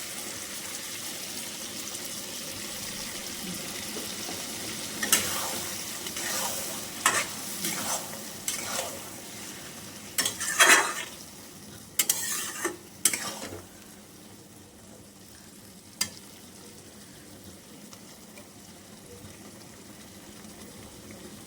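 A paste of black and white mustard seed, coconut and green chilli is stirred into a hot pan, giving steady sizzling frying with a run of louder scraping stirs in the middle before settling back to a soft sizzle.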